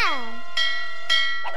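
Three resonant bell strikes, each sharp at the start and then ringing out with a long sustained tone. They are fairly loud and evenly spaced.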